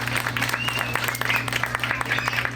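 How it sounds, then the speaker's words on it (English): Audience applause at an Eid event, a dense, steady patter of many hands clapping close by, with a faint hum beneath. "Let's give them a big round of applause."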